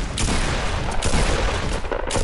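Dense volleys of gunfire in a first-person shooter video game, loud and continuous bursts of rapid shots and booms filling the whole stretch without any talk.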